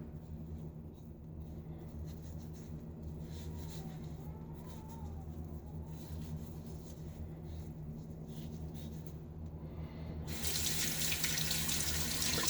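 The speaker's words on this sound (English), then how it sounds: "I think I'm going to add a little bit more water." Tap water runs steadily into a sink while shaving lather is worked up, a constant close hiss that swells louder near the end as the flow increases.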